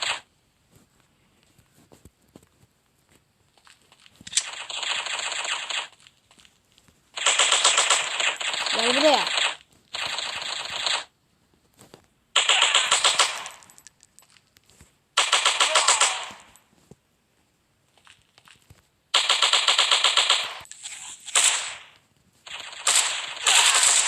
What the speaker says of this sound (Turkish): AK en sevdiğim silah da arkadaşlar